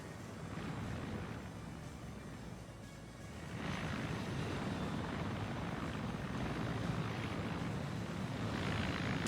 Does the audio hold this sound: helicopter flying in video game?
yes